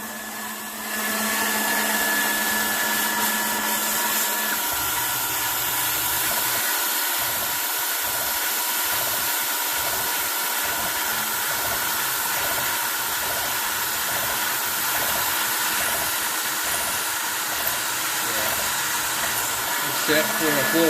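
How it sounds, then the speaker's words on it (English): A CNC mill with an end mill bores holes for M4 bolts in a tailboom mount for a JetCat turbine. A steady, bright machine whine carries a rhythmic pulsing from the pecking cycle throughout. "Now we're going to cut the last two more holes up here for the 4 M4 bolts."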